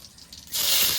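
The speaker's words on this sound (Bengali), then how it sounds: "কেটে রাখা পেঁয়াজ কুচিগুলো দিয়ে দিই পেঁয়াজ কুচিটা একটু নেড়ে চেড়ে ভেজে নেবো" Chopped onions drop into hot oil in a pan with a bay leaf, dried red chilli and cumin, bursting into a loud, close, sustained sizzling hiss after a quieter start.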